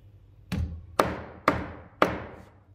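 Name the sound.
hammer tapping stacked metal coins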